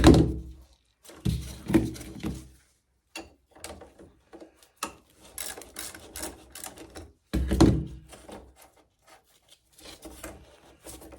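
Bolts being worked out of a bicycle seat with hand tools: irregular metallic clunks, rasping scrapes and knocks, some heavier thuds, in bursts separated by short pauses.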